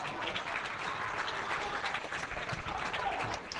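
Valur fans cheer and applaud at an Icelandic first-division basketball game against Blikar, a steady dense crowd roar filling the hall from start to end.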